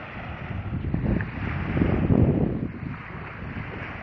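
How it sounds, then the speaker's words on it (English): Steady wind at a beach in Placencia, Belize, a continuous rushing roar with microphone buffeting that swells in the middle, no voices. "Nice, breezy, beautiful day here."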